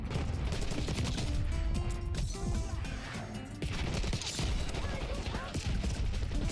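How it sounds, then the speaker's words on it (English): Dense gunfire in the shooter video game Black Ops 6: loud, continuous bursts of rapid automatic shots and cracks crowding together, with impacts throughout and a faint voice speaking underneath. "Why am I getting shot from the..."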